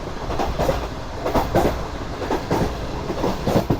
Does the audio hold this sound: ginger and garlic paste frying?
no